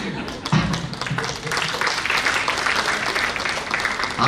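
An audience at a motivational talk claps, with a burst of scattered hand claps that settles into steady, moderately loud applause filling the room.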